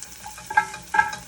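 Garlic fries in a pan, a soft close sizzle with two brief bright stirring scrapes, heard alone without talk.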